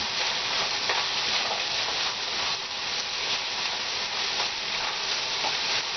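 Food sizzling and frying steadily in a hot pan while being stirred and mixed, with a continuous bright crackling hiss and faint scraping of the utensil, close and even throughout.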